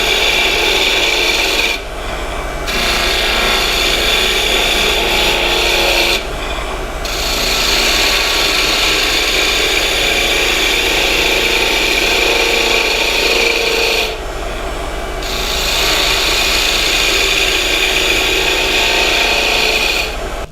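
A skew chisel scrapes steadily against spinning wood on a lathe turning a cryptex part at 1800 rpm, a close, continuous rasping hiss broken by two brief pauses.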